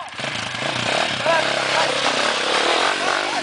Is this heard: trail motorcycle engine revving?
yes